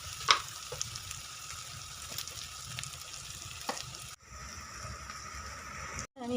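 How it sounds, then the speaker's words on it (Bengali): Chopped onion fries in oil alongside a bay leaf and dried red chillies, giving a steady soft sizzle with a few small pops and stirring clatters, moderately close and with no talking. "এবার আমি দিয়ে দেবো কুচিয়ে রাখা পেঁয়াজটা একটু ভেজে নেব।"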